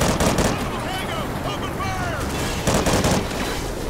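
Rapid bursts of gunfire from the video game Call of Duty Ghosts crackle at close range, mixed with game sounds and brief talk over the shooting.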